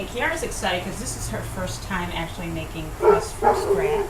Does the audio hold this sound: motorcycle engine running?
no